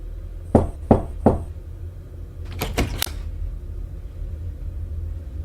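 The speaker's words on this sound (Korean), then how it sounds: "한 번 더 노크한 후 조용히 문을 열고 들어갔다" Three sharp, evenly spaced knocks on a door ring out close and clear, then after a pause comes a quicker cluster of three more knocks, over quiet room tone.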